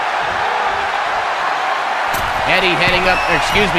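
Arena crowd cheering for Dominik during a WWE 2K22 wrestling match, a dense steady roar that grows louder midway, with a commentator's voice talking over it.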